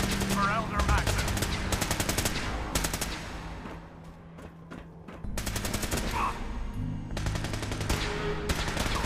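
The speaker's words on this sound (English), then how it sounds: "Taking fire for Elder Maxim." Rapid automatic gunfire in Fallout 4 on PS5, long loud bursts of machine-gun fire broken by a short lull, with a voice speaking over part of it.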